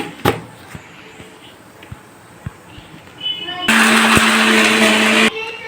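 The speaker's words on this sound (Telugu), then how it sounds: "ఇలా వేసుకొని మిక్సీ పట్టుకోవాలి" A mixer grinder whirs loudly for about a second and a half as it grinds jaggery, popped sorghum and coconut for a laddu, following a stretch of quieter kitchen clatter.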